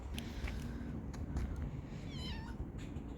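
A cat meows faintly several times, with rising and falling calls over a low steady background rumble.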